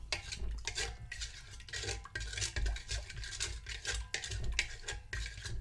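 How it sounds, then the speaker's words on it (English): Yeast being stirred in warm water for garlic parmesan pretzel dough: a steady run of close, scraping swirls and light clinks against the bowl, with no talk. "Maybe even give it a little bit of a stir."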